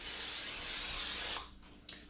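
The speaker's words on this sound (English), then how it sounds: "I am going to be spraying my pan or my glass" Cooking spray shoots onto a glass baking pan in one steady, close hiss of just over a second, then stops, followed by a short second burst.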